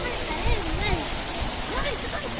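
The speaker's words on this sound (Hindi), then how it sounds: "ये झरने के नीचे नाई नाई करेंगे बुलबुल और इसी।" A mountain waterfall near Harsil rushes in a steady, broad roar of falling water, close by, while people talk and call out over it.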